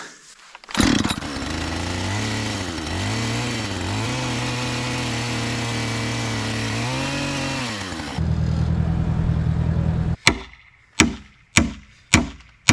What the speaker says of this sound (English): I'm going to clean the rest of it out with the power chisel